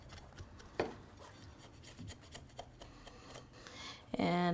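A knife scrapes the charred skin off a roasted chile: scattered soft scratches and taps, ending in a brief louder clatter.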